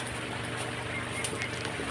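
A farmyard goose gives faint, short honks near ducks and chickens, heard over a steady background hum.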